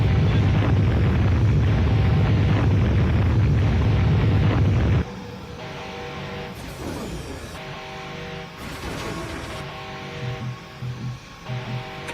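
Heavy rumbling explosions in the video game Afterfall InSanity, a loud sustained roar for the first several seconds, then quieter booms and debris-like crackles over droning background sound.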